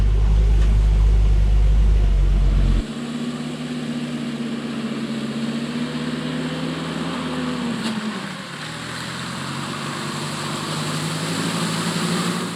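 A Soviet UAZ-69 jeep drives through mud. Its engine drones loud and close, with a deep rumble that drops away after a few seconds, then a steady strained hum that rises and falls with the throttle.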